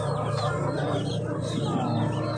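A flock of ducks feeding at a riverside settlement in Faridpur, Bangladesh, a dense continuous chorus of quacks and murmuring calls, close and steady, with people faintly talking underneath.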